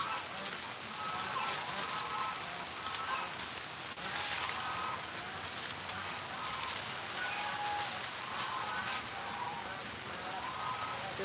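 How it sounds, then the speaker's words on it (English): Steady, heavy rain patters and hisses on a farm as the downpour grows harder, a dense wash of drops with a few brighter splashes throughout. "It's really starting to rain harder."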